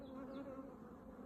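Honey bees hum in a dense, steady drone around a Langstroth hive on a hot spring day, a close continuous buzz with a few individual bees passing by.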